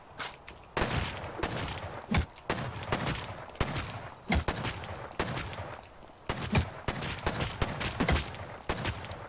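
Gunfire in a video game home base raid, dense rapid bursts of shots with sharp cracks recurring across the clip, close and loud, with no voices over it.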